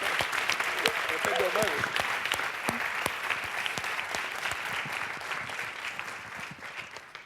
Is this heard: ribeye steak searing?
no